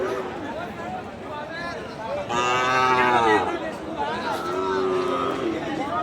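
Cattle at a livestock market moo several times, with one loud, long call near the middle and softer lowing around it. A crowd chatters and people talk throughout.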